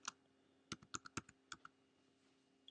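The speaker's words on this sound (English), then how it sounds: "Now when we type" Computer keyboard typing, a quick irregular run of about a dozen light key clicks, close and quiet over a faint electrical hum.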